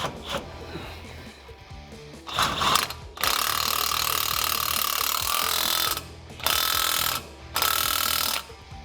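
A hand ratchet clicks rapidly and loudly as bolts are tightened during a Superlift lift kit install on a 2021-2022 Ford Bronco, in several bursts of fast ratcheting separated by short pauses.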